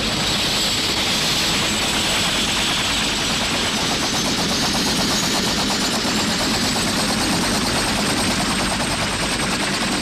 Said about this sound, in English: That's a lot of helicopters here